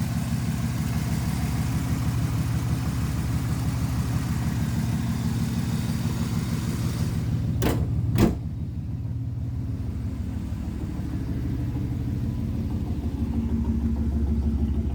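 A 1981 Pontiac Turbo Trans Am, stock 301 turbo V8 with the muffler deleted, idles with a deep, steady, loud rumble heard up close, broken only by two sharp clicks partway through.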